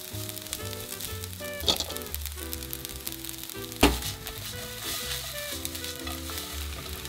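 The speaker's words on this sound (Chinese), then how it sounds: "加入面以后不用炒很久，均匀散开就可以装盘啦。" Instant noodles and rice stir-fried in a pan give a steady sizzle with frequent scraping and tossing of the spatula, plus a couple of sharp clanks against the pan.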